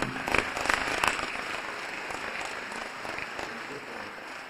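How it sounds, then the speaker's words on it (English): An audience at a Gambian health sector ceremony applauding, a steady wash of clapping that starts slightly stronger and then holds evenly, filling the room. "please give them a big round of applause once more"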